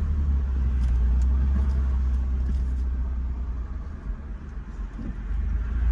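Steady stream of cars passing on a high-traffic city street in the St. Roch neighborhood of New Orleans, a continuous loud low rumble of engines and tires with swells as vehicles go by close, no talking.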